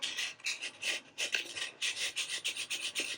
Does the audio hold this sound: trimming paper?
yes